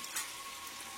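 Chopped onions fry in a pan for a Bengali chicken curry, giving a steady soft sizzle with faint crackles and a brief stir near the start, quiet and close, without any talk.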